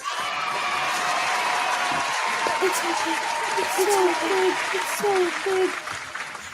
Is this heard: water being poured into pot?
no